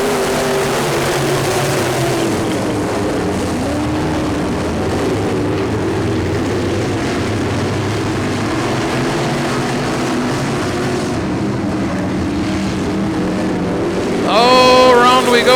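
Race car engines roar loudly and continuously as cars accelerate on a high-banked track back under green, a dense steady drone with a brighter whining engine rising near the end.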